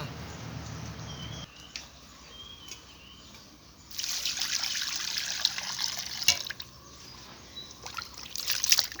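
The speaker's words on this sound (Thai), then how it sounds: "เดี๋ยวซาวล้างน้ำเปล่า" Pork fat being washed in plain water, with a faint trickle at first, then louder close splashing and swirling of water in a bowl with a few knocks, no talking.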